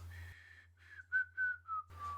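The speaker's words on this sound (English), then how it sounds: "Dad, could you stop whistling?" A man whistles a sustained melodic tune at night under a starry sky on a motorcycle trip near Yosemite, the whistle clear and close with short pauses between phrases over a low steady hum.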